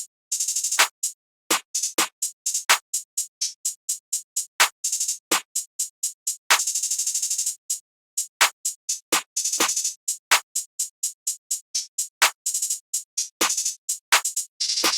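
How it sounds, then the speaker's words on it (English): Simple power snare pattern layered over a trap beat: punchy snare cracks landing among quick bright hi-hat ticks, steady and loud, with no voices. "Then this simple power snare with the like basic snare pattern,"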